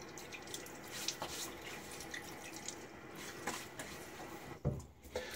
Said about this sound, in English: I'm going to get my face wet